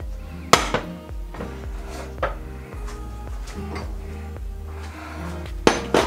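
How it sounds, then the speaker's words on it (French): A metal frying pan is set down on a stove with clanking knocks, amid busy kitchen clatter of dishes and utensils, with one sharp loud clank near the start. "Donc déjà on va allumer notre poêle à fond."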